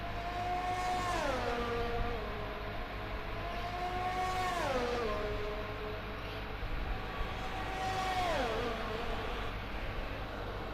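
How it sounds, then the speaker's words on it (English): Mercedes Formula 1 car engine in the F1 20 racing game at the Dutch Grand Prix, a high-pitched sustained whine that rises, then drops sharply on downshifts about every four seconds, revving through gears over a steady background drone, no talking. "Let's listen to that Mercedes engine."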